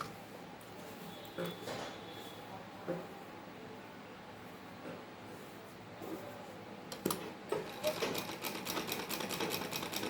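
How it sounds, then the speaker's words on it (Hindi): Sewing machine stitching along the edge of a kurta, a soft rapid whirring with short bursts and pauses, then a louder burst of running stitches near the end, with a voice talking faintly over it. "बिल्कुल किनारी के बराबर बराबर एक सिलाई लगाएंगे फिनिशिंग के साथ"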